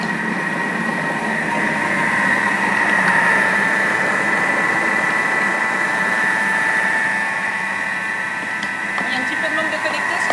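A Thermomix whirs steadily at speed 4 for about thirty seconds, blending cake batter for a rhubarb-strawberry Linzer cake, a constant mechanical hum with a sustained tonal whine, moderately loud and even throughout.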